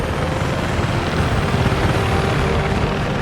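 A helicopter in the video game Delta Force drones steadily with a dense, continuous rotor and engine roar, loud and close throughout with no talking.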